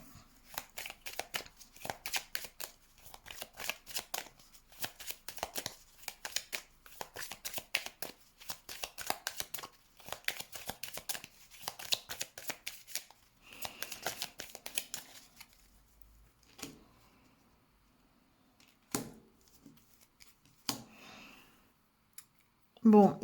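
Tarot cards shuffled for a reading: dense, continuous riffling and rustling for about fifteen seconds, then scattered softer card flicks and placements with quiet gaps, closing with a brief louder clatter.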